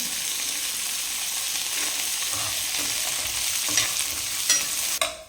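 Grated coconut and small shallots fry in a pan for a sundakkai chutney, a steady bright sizzle with soft stirring scrapes underneath and a sharp clatter of the utensil near the end.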